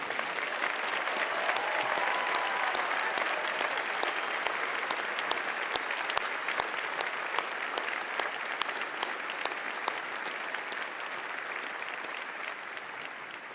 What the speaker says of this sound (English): could I ask you for a huge round of applause for the academics and staff here at Cardiff University